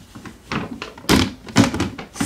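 A small clear plastic storage drawer being stacked onto another identical drawer, giving a few close, hollow plastic thunks and knocks in quick succession with no talking.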